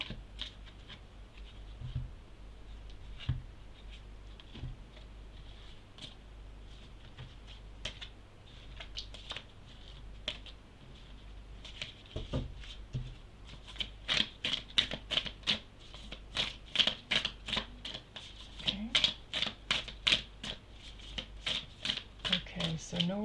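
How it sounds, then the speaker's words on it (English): A deck of cards being shuffled close up, starting with scattered soft riffles and building into rapid, crisp flicking bursts toward the end, alongside a quiet background hum. "Let's just give the cards another blend"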